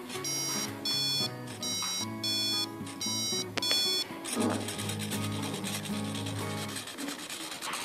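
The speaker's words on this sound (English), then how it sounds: "If there is some theft or something like that, it will alarm sound." Infrared security sensor alarm in a smart safety system demonstration, sounding as a series of evenly spaced, bright beeping bursts for about four seconds, followed by rubbing and mechanical handling noises.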